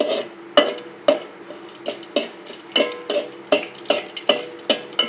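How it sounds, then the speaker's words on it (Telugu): A spoon stirs and scrapes a pan of mustard seeds, cumin, dried red chillies, a little urad dal and asafoetida tempering in hot oil for mango dal, with regular clinking strokes about twice a second over a faint sizzle. "పప్పు మామిడికాయకి పోపు వేయిస్తున్నానండి"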